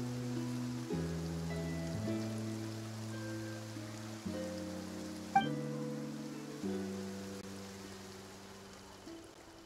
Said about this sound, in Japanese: 今日の雨は結構降ったね。